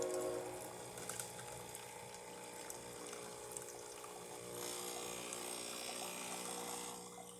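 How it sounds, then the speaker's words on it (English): Hot water hisses and trickles from a Breville Oracle Touch espresso machine over a low pump hum, steady and close, with the flow shifting slightly partway through. "let's test the hot water"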